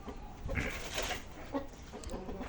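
Chickens of a full-plumaged breed with ear and hackle feathers give soft, quiet clucks, several short calls spread over a couple of seconds against faint background noise.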